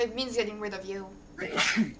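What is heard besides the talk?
sneeze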